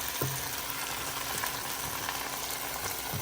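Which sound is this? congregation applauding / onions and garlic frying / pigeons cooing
onions and garlic frying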